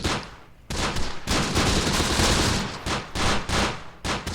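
Dense rifle fire in the World War II strategy game Close Combat: The Bloody First, many sharp overlapping shots in rapid bursts, loud and close, with no talk.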